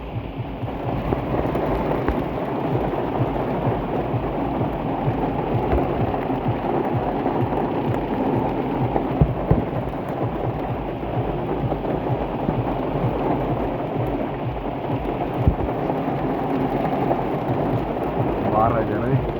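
Steady rain pours down throughout, a continuous broadband wash with occasional low rumbling suggestive of distant thunder, and a faint voice briefly audible beneath it.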